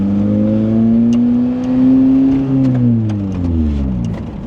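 Lotus Elise sports car engine pulling hard in second gear, heard from inside the cabin as a loud, rough drone whose pitch climbs steadily, dips briefly at a shift, then rises again.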